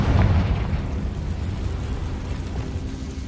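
A Confringo blasting curse from the Hogwarts Legacy video game goes off as a loud, rumbling explosion at the start, then a sustained roar that slowly fades over the following seconds.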